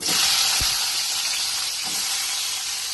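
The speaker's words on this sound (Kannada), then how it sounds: "ಎಣ್ಣೆಲಿ ಚೆನ್ನಾಗಿ ಫ್ರೈ ಆಗ್ತಾ ಇದೆ" Tomatoes frying in a few spoons of oil in a pan for tomato chutney, a continuous bright sizzle and hiss with a couple of soft scraping touches, no talking.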